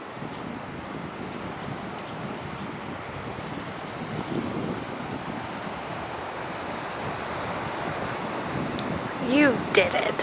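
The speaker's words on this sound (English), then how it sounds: "Say goodbye to the ocean." Ocean surf and wind at the shore in Chiba Prefecture, Japan, a steady broad roar of waves with gusty microphone wind throughout, a brief voice near the end.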